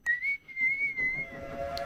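A person whistles a long, steady, slightly wavering tone, then a few shorter ones, imitating the whistle of a Volga steamboat. The whistling is close and clear, with no talking.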